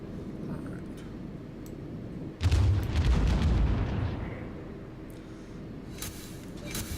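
Warship guns firing at a battleship in World of Warships, one heavy booming salvo that rolls out and fades over a low background rumble, with fainter pops later.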